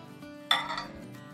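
A salad tossed with a spoonful of dressing in a bowl gives one bright utensil clink against the dish amid quiet background, with no voices.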